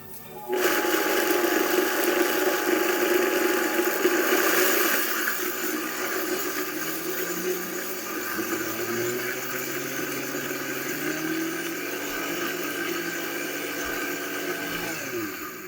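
Blender grinding oats into oat flour on a low setting, starting abruptly with a loud whirring roar that eases slightly and holds steady, close up, with no talking.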